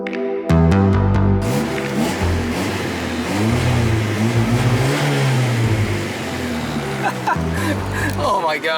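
Car engine with a modified, poorly fitting exhaust revving hard, loud and rough with rising and falling throttle blips, close by.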